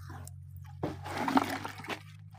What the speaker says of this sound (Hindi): वहाँ पे चल रहा है पानी